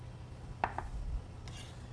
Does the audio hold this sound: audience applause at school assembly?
no